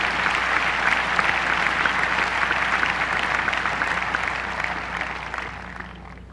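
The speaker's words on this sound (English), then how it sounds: "So one more round of applause for you, Tony." Audience at the 1999 tennis Hall of Fame induction applauding, loud sustained clapping from a large crowd that gradually thins toward the end.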